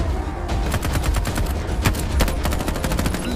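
Dense rapid gunfire, like a machine-gun fusillade, rattles continuously and loudly with no pauses or speech, a sustained burst of overlapping shots.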